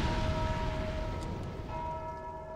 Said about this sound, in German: Nein, ich habe die Glocke gehauen.